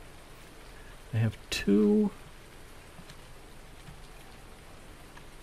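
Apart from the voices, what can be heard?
rain falling in Farming Simulator 19 video game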